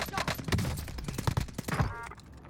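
Rapid bursts of gunfire ring out in a shooter video game, close and crackling in quick clusters, then cut off near the end.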